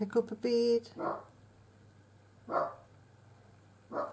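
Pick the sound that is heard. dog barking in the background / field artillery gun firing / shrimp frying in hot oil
dog barking in the background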